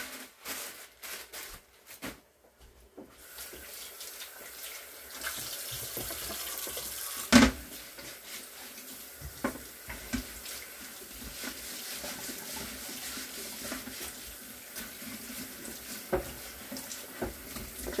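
Tap water running steadily into a kitchen sink while cooking utensils and cutting boards are washed, a continuous moderate splash with occasional clinks and knocks, one sharper clatter partway through, no talking.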